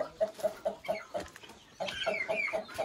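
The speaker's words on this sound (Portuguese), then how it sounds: "E aqui é o galinheiro, ó. O galinheiro principal das galinhas caipiras." Free-range hens cluck steadily in the main henhouse of a farm, a close, rhythmic run of short clucks joined later by higher, busier calls from the flock.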